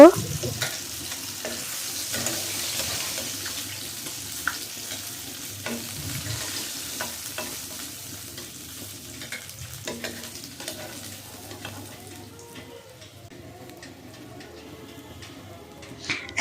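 Hilsa fish pieces fry in a pan with a continuous close sizzle and occasional clinks of a stirring utensil, and the frying softens toward the end with no speech.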